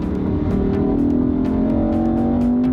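A Lamborghini V10 engine, mounted close to the rear wheels, drones with a steady, loud revving note and a rising pitch, dense and continuous with no talk over it.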